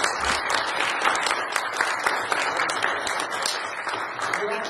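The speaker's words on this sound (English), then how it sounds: "let's just give Keith a round of applause" A church congregation gives a Sunday-morning round of applause. Dense, fairly loud clapping runs steadily for the whole stretch, mixed with a few scattered voices and cheers.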